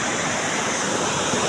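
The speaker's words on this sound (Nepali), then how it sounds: "अघिको झरना चाहिँ यहाँबाट जान्छ" A waterfall near a village water mill in Nepal, a steady broad rushing roar of falling water, loud and constant with no voices.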